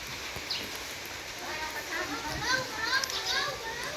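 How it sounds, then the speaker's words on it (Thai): Steady rain falls over a rural rice-field hut in the late afternoon, a constant hiss under children playing and chattering nearby, with occasional bird calls. "ฝนตก"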